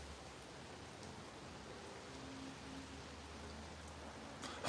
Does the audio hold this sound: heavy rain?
yes